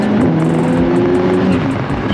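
An Audi S3 8P with DSG gearbox and around 320 bhp accelerating hard, a loud, sustained engine drone with a rising tone heard close and alone.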